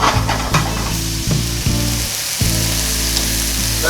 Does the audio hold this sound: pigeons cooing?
no